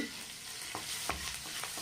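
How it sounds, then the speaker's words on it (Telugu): Continuous hiss of a chana dal and urad dal tempering sizzling in hot oil for chutney, with a few sharp pops and stirring clicks, no talking. "ఇలా చిన్న తాలింపు వేసేస్తానండి చట్నీలో"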